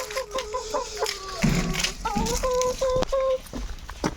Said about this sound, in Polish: Osiem kurek, siedem kurek, jeden kogutek.